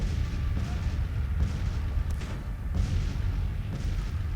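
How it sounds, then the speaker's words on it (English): Artillery fire in a Grand Tactician: The Civil War battle: repeated heavy booms from cannons thud over a constant low battlefield rumble, spaced irregularly throughout. "And more enemy artillery is setting up."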